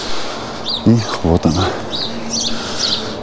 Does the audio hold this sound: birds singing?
yes